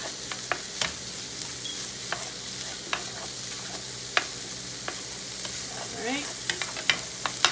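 A hash of sweet potato, maple bacon and chorizo sizzles steadily in a pan while a utensil stirs it, giving scattered sharp scrapes and clicks. A voice speaks one short word near the end.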